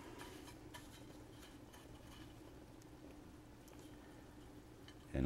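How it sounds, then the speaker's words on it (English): Trout fillets fry in hot oil, a faint, steady crackling sizzle with soft bubbling throughout, ending in a brief louder bump. "And you can tell that oil is hot because it is frying."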